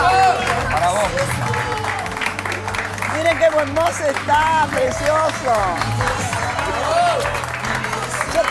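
A studio audience claps steadily as Marcelo Tinelli enters a televised dinner-table talk show, the applause sustained throughout beneath a host talking over it.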